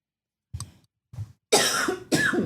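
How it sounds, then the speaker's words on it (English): A woman coughs a few times, two small muffled coughs followed by two louder, harsher bursts close to the microphone. "I coughed."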